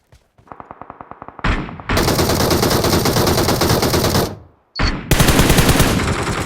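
Automatic gunfire in PUBG: a short rapid string of shots, then a long sustained burst, a brief pause, and another heavy burst, loud and close with no talking.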